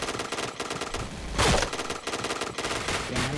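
Rapid automatic gunfire from a Point Blank online shooter game, dense bursts of machine-gun fire running continuously with one louder close burst in the middle.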